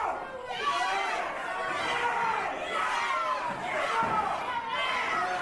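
A wrestling crowd at a live American Hostile Championship Wrestling event keeps up a steady roar of chatter and cheering, filling the hall under a commentator's talk.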